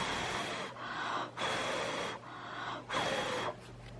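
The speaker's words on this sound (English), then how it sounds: "I can blow on it." Breath is blown by mouth onto artwork to dry it, in four long, close puffs separated by short pauses.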